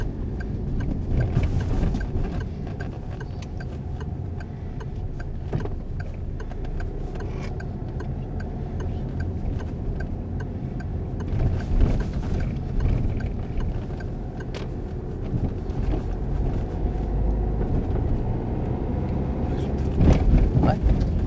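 A car drives during a driving lesson, its low engine hum and road rumble running steadily throughout, with an instructor's voice talking over it and faint ticking in the cabin.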